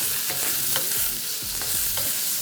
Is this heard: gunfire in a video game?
no